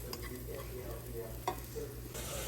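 Breadcrumbs sautéing in a pan until golden, giving a steady low sizzle with light scraping stirs and one brief louder clatter midway, no voices.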